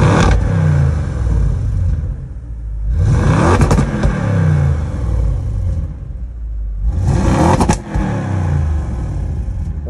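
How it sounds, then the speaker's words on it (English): Audi RS6 Avant engine in dynamic mode revved three times while stationary, each loud rising roar peaking and falling back to a deep burbling idle, heard close with short pauses between blips. "Now we're going to put the car into dynamic and give it a couple of revs."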